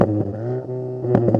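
A stationary 2025 VW Golf GTI Mk8.5 idles through its exhaust with a steady, close, deep burble, then gives two short throttle blips near the end.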